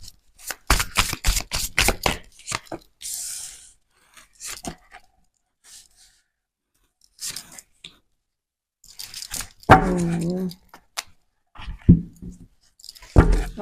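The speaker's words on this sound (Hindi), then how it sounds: "Last shuffle." Tarot cards riffled and shuffled by hand in a final shuffle, giving quick bursts of papery flicking and soft slaps, separated by short pauses and quiet gaps, with a louder rustling shuffle near the end.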